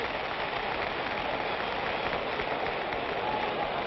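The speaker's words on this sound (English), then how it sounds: "the crowd gives them both a hand as they go back to their corners" A boxing crowd at a heavyweight fight applauds between rounds, a dense, steady wash of clapping with no breaks and no voices on top.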